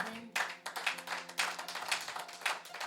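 Applause for an apostle in a church service: a modest round of hand claps, close and irregular, lasting a few seconds over a faint low hum.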